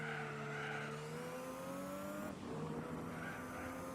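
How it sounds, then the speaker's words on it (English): A car sliding off the track in Gran Turismo 4, a sustained engine drone with rising pitch and a brief tire-scrub break midway, loud and continuous with no talk. "No, I slid off the track."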